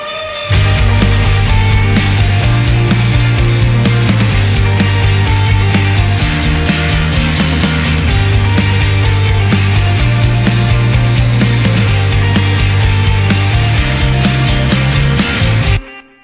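Several guitar tracks mixed together with chorus, reverb and echo play a dense, loud full-band passage over a moving bass line, continuous and alone with no talking.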